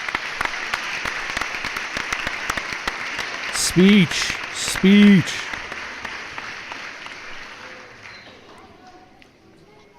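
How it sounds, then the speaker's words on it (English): Crowd applause sound effect at a fantasy football award show, a steady wash of clapping that fades away, with two short tonal blips midway and people talking. "I just love the crowd noise."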